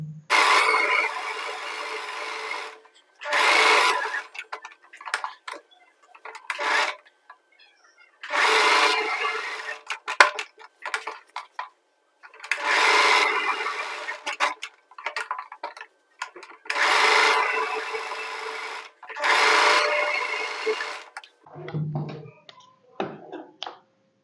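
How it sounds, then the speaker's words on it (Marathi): A sewing machine stitching a kurti neckline runs in repeated bursts of a few seconds each, separated by short pauses. The whirring stitching is close and fairly loud and ends with a few quieter clicks. "चला तर मग आता शिलाई मारून घेऊया"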